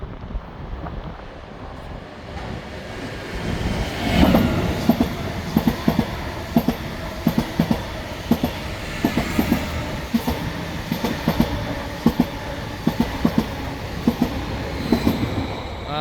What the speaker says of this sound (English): the next one's already coming. It doesn't stop here. I recommend this one should be going like 80 miles per hour at least.